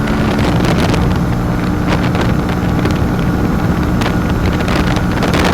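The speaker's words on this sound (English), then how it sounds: "The motor sounds I think like a cafe racer should" A 2017 SSR cafe racer motorcycle's small engine drones steadily and loudly throughout while riding, buried in heavy wind rumble and buffeting, with no voices.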